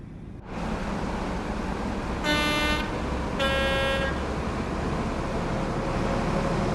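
Class 710 Aventra train in Train Sim World 6 sounds its AWS warning: two steady high-pitched electronic tones, each about half a second to a second long, separated by a short gap, over a constant engine and track rumble.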